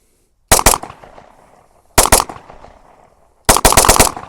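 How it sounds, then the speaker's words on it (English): Dry gun run through a test string of rounds, fired in three separate rapid bursts of several shots each, loud and close, with short pauses of silence between bursts and no talk. "So just gonna send about 20 rounds through it, see how it goes."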